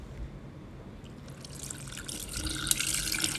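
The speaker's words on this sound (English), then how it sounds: "now I am ready to pour the juice of the membrillo" Quince (membrillo) juice pours into a pitcher holding ice, a close liquid trickle that grows fuller and splashier as the stream strengthens, with faint clinks near the end.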